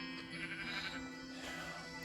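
Sheep in a hardcore survival video game bleating faintly, a quiet wavering bleat over a steady background hum, with no talking.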